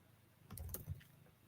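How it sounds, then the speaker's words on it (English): Soft keystrokes on a computer keyboard click in a brief, quiet cluster of a few taps, close by and isolated, with faint room hiss around them. "I'm just typing those up as I go."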